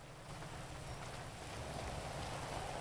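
Rain in a GTA roleplay game pours down as a dense, continuous hiss that stays loud and steady the whole time, with no talking.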